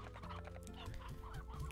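Several video game chickens cluck in short, overlapping bursts over a steady background hum, soft and continuous.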